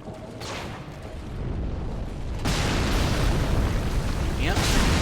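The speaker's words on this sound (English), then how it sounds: "Yep, some sort of huge ballista." A huge ballista fires in Dark Souls 3, heavy booming blasts that build from a rumbling roar into a louder sustained crash, with a further sharp impact near the end, far and echoing.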